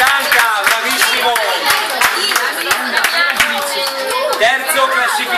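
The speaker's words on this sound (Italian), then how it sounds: "Un applauso al quarto classificato su 80 bambini" Dense, lively clapping from a crowd at a children's Yu-Gi-Oh tournament prize ceremony, continuous and near, with a voice calling out over the applause throughout.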